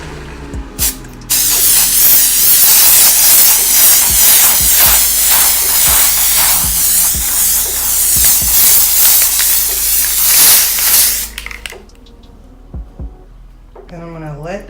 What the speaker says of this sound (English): I'm gonna spray the glitter blast on there